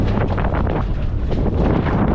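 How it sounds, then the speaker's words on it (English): Strong gusty wind roars against the microphone in a tight Croatian marina during boat docking in about 25 knots, a continuous loud buffeting rush with no voices. "the wind is all of a sudden pushing us like this"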